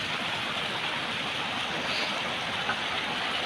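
Glacier meltwater stream at Gomukh in the Uttarakhand Himalaya rushes continuously, a loud, steady broadband roar of flowing water with no break, heard up close.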